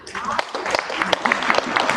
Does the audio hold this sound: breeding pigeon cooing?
no